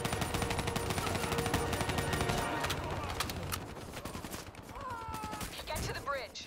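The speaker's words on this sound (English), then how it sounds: "Give me some cover fire." Rapid, sustained automatic gunfire from a Call of Duty: Black Ops 3 firefight, dense bursts of shots that thin out toward the end, with game voices and scattered effects mixed in.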